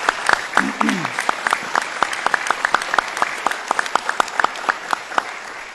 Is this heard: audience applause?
yes